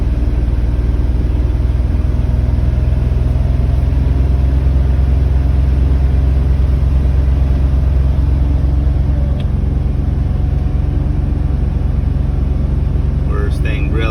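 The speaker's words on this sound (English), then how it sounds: "I'm going to go ahead and rev it up to about 2500 to see if we get it to drop." Car engine idling on an air-conditioning recharge job, then held at a steady raised speed of about 2500 rpm, a continuous low hum and rumble close by with a person talking over it.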